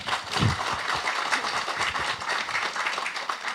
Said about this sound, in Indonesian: Tepuk tangan tuh Mbak Flah